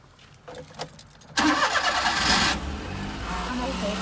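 A mini truck engine cranks and catches after a stretch of quiet background noise, then revs loudly for about a second before settling into a steady, fairly close idle.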